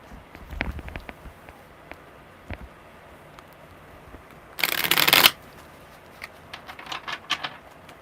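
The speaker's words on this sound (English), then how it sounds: "one more good shuffle" A deck of tarot cards is riffle-shuffled in one loud, dense burst lasting under a second, surrounded by soft handling taps and clicks, close by.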